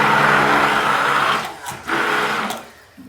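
A food processor running during a French chocolate tartlet recipe: a loud, steady motor whir that dips briefly twice before surging back, with no talk over it.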